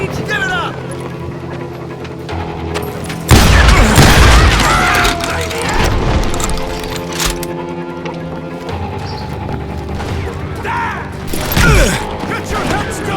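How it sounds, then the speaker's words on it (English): Street shootout in a Wild West town in Call of Juarez Gunslinger: sharp booming shotgun and gunfire blasts burst out repeatedly over a steady background of game sound and music, loud and close, with one big blast near the start. "They're shooting in the street."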